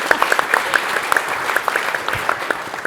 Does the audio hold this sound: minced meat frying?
no